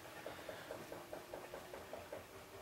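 A faint, steady mechanical drone with soft rhythmic knocking from a washing machine running quietly in another room.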